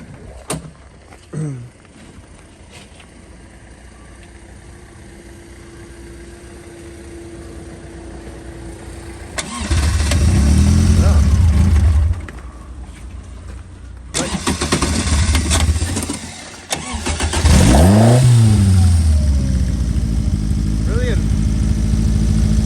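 Car engine on a dyno, fresh from a Lumenition ignition kit fit, cranks with a few short starter bursts, then fires and is revved hard in several loud surges, with people talking nearby.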